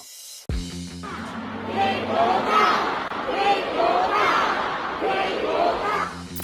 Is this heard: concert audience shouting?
yes